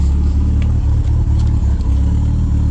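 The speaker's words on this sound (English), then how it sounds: "It's got a sweet dual exhaust on it, sounds pretty good." A modified truck engine with an aftermarket camshaft and dual exhaust runs loud and close, a deep rumbling idle with a lumpy, pulsing beat and slight rises in revs.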